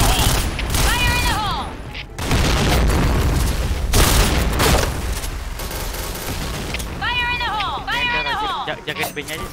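Grenade blasts in a tactical video game shooter, several loud sharp booms with broadband bursts around two and four seconds, among gunfire and game sounds, with voices talking over parts of the action.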